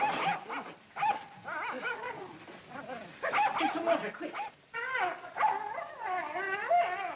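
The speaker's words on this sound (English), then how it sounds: "Let him howl if it makes him feel good." Dog howling and whimpering indoors in a 1941 film scene, rising and falling wails in several bursts, with people talking over it.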